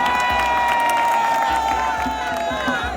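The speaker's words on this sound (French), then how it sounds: "Applaudissez pour vous-même." Crowd at a rally in Milan, Italy, cheering and applauding loudly throughout, with sustained shouting and whoops layered over the clapping.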